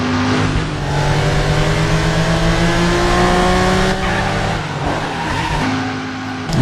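A car in the video game Driver San Francisco drives hard and slides, its engine droning steadily and loudly while the tyres squeal through a long skid, with no voices over it.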